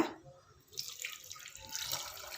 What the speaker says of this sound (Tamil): இப்போ இதில் ஒரு கப் தண்ணி சேர்த்துக்கோங்க.